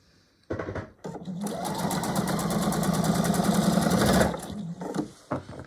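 A sewing machine stitches quilt block strips in a fast, even burst of about four seconds, close and clear, starting and stopping with short pauses around it.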